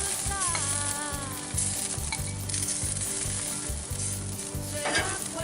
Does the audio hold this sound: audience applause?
no